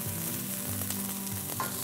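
Chopped onion and garlic sizzle steadily in hot olive oil in a pan, a loud, close frying hiss with brief stirring scrapes and no voices.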